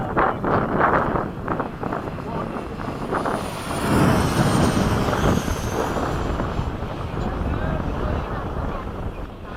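Wind rushes loudly during an F-16 formation flight, blending with an aircraft's broad steady roar. The sound is continuous and close, swelling midway through.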